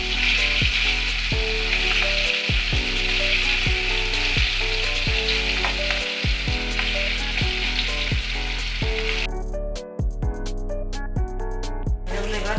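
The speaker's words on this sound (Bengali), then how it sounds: "মাছটা খুব ভালো করে লাল করে ভাজতে হবে" Rohu fish from a pond frying in hot oil until reddened, a loud, dense, steady sizzle with regular clicking, ratchet-like ticks running throughout and no talking.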